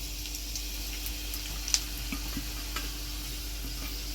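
Spices dropped into a hot pan for a Malvani cashew curry, giving a steady, soft sizzle with a steady hum beneath, a few faint stirring clicks and one sharper tap, no talking.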